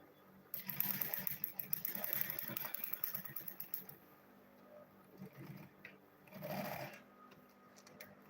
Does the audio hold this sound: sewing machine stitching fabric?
yes